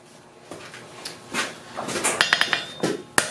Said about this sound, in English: that's all I'm hammering these facets to